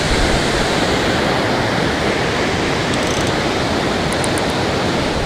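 Ocean surf and swell rolling onto Muriwai beach, a steady loud broadband wash of breaking waves with no pauses, heard alone throughout.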